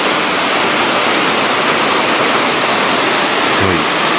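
Shirahige waterfall and its river in Biei, Hokkaido, roar as a loud, steady, broadband rush of falling water, close and continuous with no voices.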